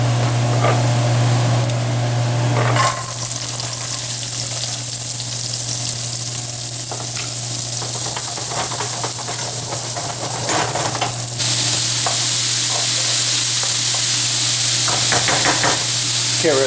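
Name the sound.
sautéing vegetables in a pan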